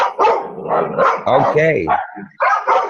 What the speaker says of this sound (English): So we got the dog barking.